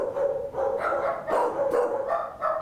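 Several dogs bark repeatedly in a shelter's large dog holding area, a steady chorus of overlapping barks and yips with no talking over them.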